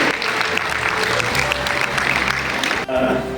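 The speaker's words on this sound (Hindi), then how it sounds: "तालियां और उनकी गूंज और अनुगूंज वहां तक सुनाई देता है" Audience at a motivational event in Bikaner gives hearty applause with a reverberant echo, dense clapping under a low musical hum, cutting off sharply near the end.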